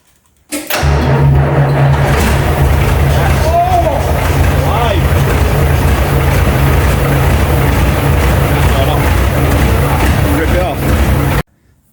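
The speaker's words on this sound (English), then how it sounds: "I'm just going to attempt to turn this over now and see if we've got life and see if this engine spins over." A Scania 143M V8 heavy wrecker cranks and fires up, its deep engine settling into a loud, steady idle that rumbles close by for about eleven seconds before cutting off.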